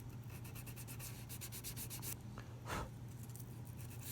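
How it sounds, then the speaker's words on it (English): The sides of a guitar fret are sanded by hand with fine sandpaper: a quick run of about a dozen rhythmic rubbing strokes, then a pause and a single longer scrape, close and fairly quiet. "200 grit sandpaper that sanded the top of it, so I'm just matching the sides of the fret"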